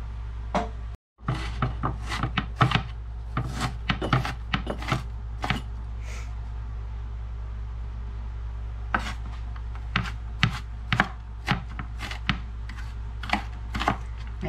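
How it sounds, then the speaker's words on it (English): Knife chopping an onion finely on a board, a series of sharp, close taps in irregular bursts with short pauses between, over a steady low hum. "Let's go ahead and chop up the onion. It says chop it up fine."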